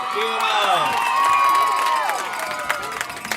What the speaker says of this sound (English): PA announcer doing a great job getting the crowd energized